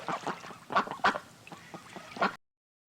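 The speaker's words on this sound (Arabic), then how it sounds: "بطة." A duck quacks in a series of harsh, honking calls, fairly close and clear, with a few louder bursts before it cuts off abruptly.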